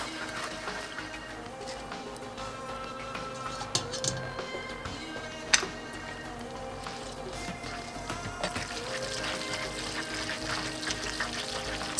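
Starchy pasta water poured from the pot into a buttery Fettuccine Alfredo sauce, a soft continuous pouring and trickling with a faint clink partway through, low in level and fairly close.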